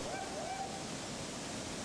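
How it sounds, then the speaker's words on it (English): A forty-foot waterfall pours vertically inside a shadowed slot canyon, a dense, unbroken roar of falling water at close range with no gaps. "The climax reveals itself with 40 feet of vertically cascading water."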